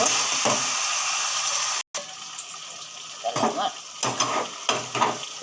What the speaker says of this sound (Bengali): পেঁয়াজটা দিয়ে মাংসটা ভেজে নেব